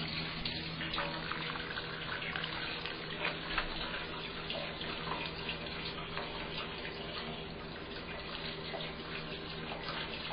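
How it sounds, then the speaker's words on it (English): Sparge water sprinkling and trickling steadily through a hefeweizen grain bed during brewing, a continuous soft splashing and pattering with a faint hum underneath. "it's just going to slowly sprinkle through here and rinse through the grain bed and get its fermentable sugars"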